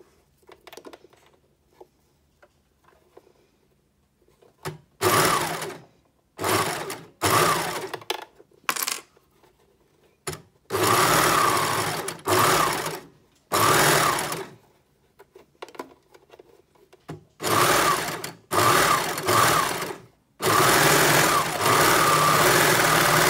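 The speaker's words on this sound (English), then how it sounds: "Okay, so we just start stitching." A Janome sewing machine stitches a neck binding in loud, close bursts of rapid whirring, starting after a quiet pause and stopping and restarting several times, with the longest runs near the end.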